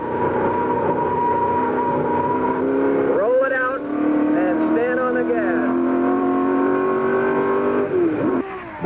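A 1965 Can-Am race car at Riverside screams along the track, its engine revving hard, dropping through downshifts and climbing again, loud and close with a commentator talking over it.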